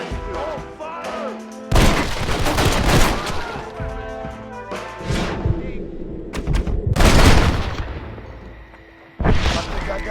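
Loud repeated gunfire bursts in the Red Dead Redemption video game, rapid volleys of shots and booms separated by brief lulls, with game music and shouting voices mixed in.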